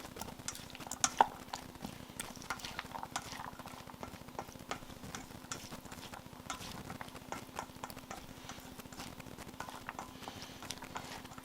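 A knife chops watercress on a board in rapid, steady, fairly faint taps that run continuously with a few louder knocks near the start.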